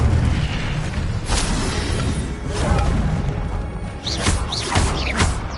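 Incendio fire spell cast in Hogwarts Legacy, a loud whooshing, roaring burst of flame with rumbling low end and crackling bursts near the end, sustained throughout.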